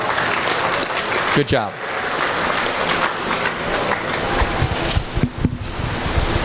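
An audience at an elite showmanship competition applauds continuously at close range, a dense rattle of clapping with a short spoken remark over it.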